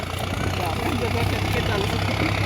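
A tractor engine idles with a steady, low, throbbing rumble, while people talk nearby over the constant drone.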